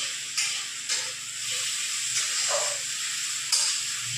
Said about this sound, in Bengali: মশলাটা ঢেলে দেবো।